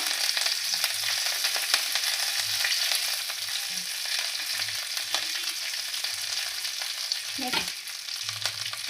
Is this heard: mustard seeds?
yes